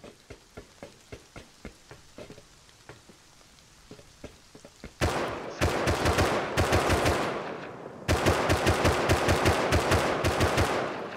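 Rapid AK rifle fire in a video game, with faint, evenly spaced shots at first, then loud, close automatic bursts in two long strings separated by a brief pause.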